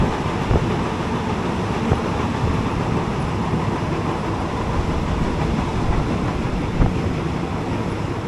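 Ordinary train 259 pulls into Sala Thammasop station in Bangkok's Thawi Watthana district, a steady broadband rumble of rolling wheels with faint clacks, continuous and close for the whole stretch.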